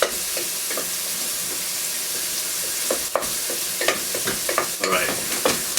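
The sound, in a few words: stirring melting cheese dip in a pan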